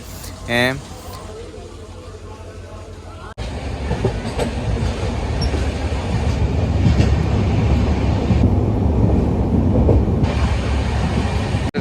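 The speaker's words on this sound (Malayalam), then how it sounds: "ഇത് യശ്വന്ത്പൂർ എക്സ്പ്രസ് ആണ് ദാദാ നഗർക്ക് പോണത്." Yesvantpur Express passenger train running on the Coimbatore route in Tamil Nadu, a steady loud rumble of wheels and carriages with rhythmic rail clatter; a voice speaks briefly near the start before the train noise takes over.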